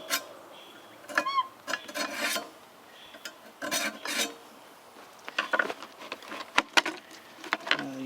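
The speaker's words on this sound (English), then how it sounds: "So I'll get a screwdriver here. Go down here to take out the heavy rust." Screwdriver scraping heavy rust off a Homelite XL chainsaw, a close series of irregular rasping, gritty strokes with small clicks and taps between them.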